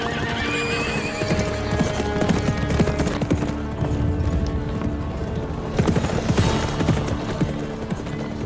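Horses clip-clop steadily as soldiers bring them in, dense hoofbeats with whinnies over a busy, continuous outdoor bustle, loud throughout.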